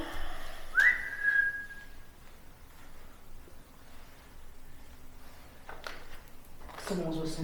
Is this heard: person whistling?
yes